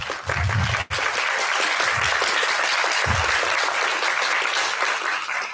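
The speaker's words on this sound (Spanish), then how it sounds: "que le pido un aplauso, por favor" An audience at a school reflection conference applauds to welcome the school director, steady full-room clapping that continues evenly throughout after a brief dip near the start.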